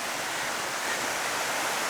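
A river in Grindelwald, Switzerland rushes loudly close by, a steady broadband roar of flowing water filling the whole clip with no voices.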